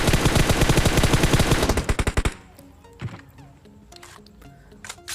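Rapid automatic gunfire from a PUBG Mobile match, a loud dense burst of shots for about two seconds that breaks off, followed by scattered fainter shots and game noises.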